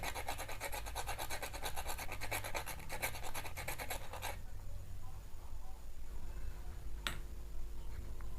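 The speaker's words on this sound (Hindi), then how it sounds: "थोड़ा हम इस सैंड पेपर से हम पेंसिल को रब कर लेंगे" Sandpaper rubs a pencil tip in fast, regular scratchy strokes for about four seconds, then the sound stops, leaving near silence broken by one sharp tick.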